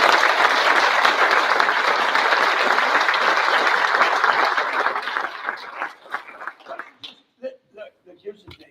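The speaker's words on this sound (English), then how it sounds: "How about a round of applause, please?" An audience bursts into loud, dense applause that holds steady for several seconds, then thins into scattered individual claps and fades out.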